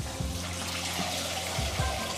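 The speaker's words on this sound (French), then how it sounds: "Pendant qu'Aiden lançait la douche" Water sprays steadily from a shower through a newly fitted hose, a continuous hiss with a few faint knocks and gurgles underneath.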